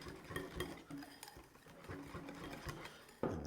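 Icing sugar is whisked into a thick chocolate cream mixture in a bowl, giving quick rhythmic scraping and light clinks at close range that are fairly quiet, with a louder knock near the end.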